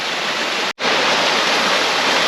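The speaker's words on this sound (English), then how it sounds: "I did promise you a waterfall. Not the biggest." Steady rushing water from a small forest waterfall pours continuously, a dense broadband hiss broken only by a momentary cut near the start.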